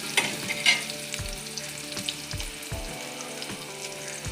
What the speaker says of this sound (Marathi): लालसर चांगला कांदा होईपर्यंत असं छान गुलाबी होईपर्यंत फ्राय करून घ्यायचं आहे त्याला